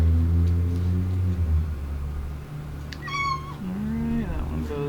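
A cat meows once, loud and close, after a low rumbling hum fades, then gives a shorter rising chirp, with someone speaking quietly in between.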